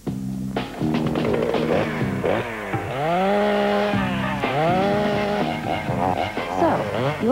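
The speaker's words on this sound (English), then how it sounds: "you'll use any excuse to get out the power tools" A loud chainsaw revs up and down in long rising and falling whines, close by, with a voice briefly mixed in.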